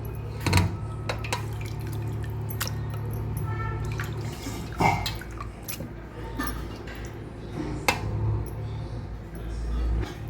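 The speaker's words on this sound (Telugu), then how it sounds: "ఆ కీమా కొట్టినప్పుడు నీళ్ళన్నీ వాటర్ అంతా ఎర్రగా వస్తాయి కదా, అందుకని మనం ఇలా స్ట్రైనర్లో వేసుకుంటే బాగుంటుంది" Water trickles and drips steadily from washed minced meat in a strainer, with occasional wet squishing and a few clinks, close by and fairly quiet.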